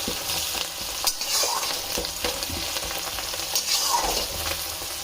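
Prawns with green chilli and coriander leaves are stirred in a hot oily pan, a loud continuous sizzle broken by repeated scraping strokes of a spatula, close up and with no voices.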